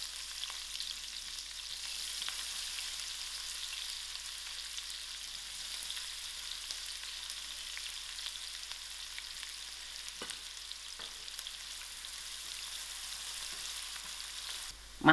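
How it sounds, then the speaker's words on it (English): Onions frying in oil for a pumpkin-leaf and dried-shrimp dish: a steady, fairly soft sizzle and crackle runs unbroken, with a few faint utensil taps and a sharp knock at the very end. "I'm going to add in my onions to fry."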